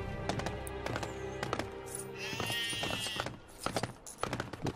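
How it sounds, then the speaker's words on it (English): Riding a sheep in the LEGO The Hobbit video game brings quick hollow clip-clop hoof taps in an uneven trot, fairly quiet, with a brief game chime in the middle. "So I can ride a sheep."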